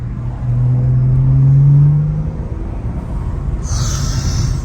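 A BMW E92 335i engine with an aftermarket air intake drones under heavy road rumble in third gear, Sport Mode, its pitch climbing steadily as the car accelerates, then settling back into a steady interior roar.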